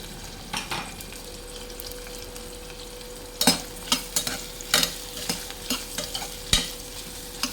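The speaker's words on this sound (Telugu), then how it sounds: "ఇప్పుడు ఇందులో మనం తరిగి పెట్టుకున్న ఉల్లిపాయలు ఇందులో యాడ్ చేసుకుందాం." Chopped onions fry in hot oil for mutton biryani, giving a soft, steady sizzle broken by a run of sharp spatula scrapes and clinks against the pan.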